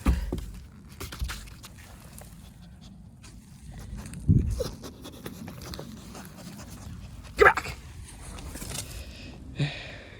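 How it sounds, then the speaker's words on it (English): Puppies in a garage panting and sniffing close by with scattered footsteps and a couple of sharp bursts, while someone briefly shouts a command. "Crazy puppies."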